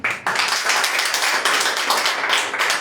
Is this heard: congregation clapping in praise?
yes